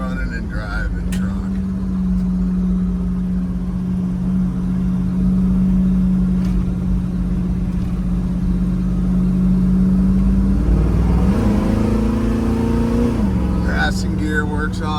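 A 1979 Ford F150 Ranger XLT 4x4 pickup engine runs steadily for the whole stretch, a loud close drone that shifts in pitch near the end as it revs, with a person talking over it.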